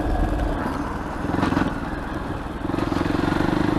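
A Fantic Caballero Scrambler 500 being ridden in first gear through town, its single-cylinder engine droning steadily and loudly, with brief surges as the throttle opens around the middle and again near the end.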